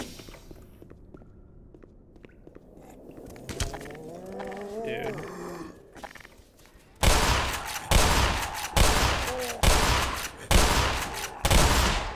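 Shotgun blasts from the Black Mesa video game, a run of five loud, evenly spaced booming shots in the second half, preceded by quieter in-game ambience and movement.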